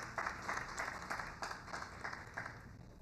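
Scattered applause from a small audience at a business forum, soft and somewhat distant, with individual claps standing out in uneven bursts over a quiet room.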